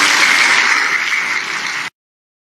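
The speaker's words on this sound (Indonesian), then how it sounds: "Tepuk tangan buat Anda semuanya." A crowd at a morning motivational gathering bursts into dense, steady applause that holds loud for nearly two seconds before cutting off abruptly.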